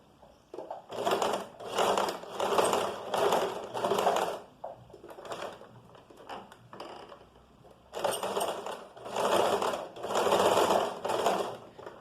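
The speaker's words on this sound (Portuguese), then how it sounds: "E a gente vai passar uma costura prendendo essa parte aqui." A sewing machine runs a straight seam along a folded edge, in two long bursts of steady rapid stitching separated by a quieter pause with light handling noise; no one speaks.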